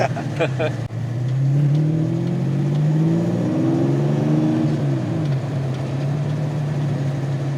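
Toyota V12 engine in a rare Cressida wagon idling smoothly, with a steady low hum that swells briefly in a gentle rev before settling back to a steady idle, close and continuous.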